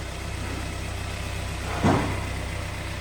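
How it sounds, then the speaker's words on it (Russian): A Kia Sportage 3 engine idles steadily with a low, even hum throughout, broken by one brief louder knock near the middle. "Так, слушаем мотор."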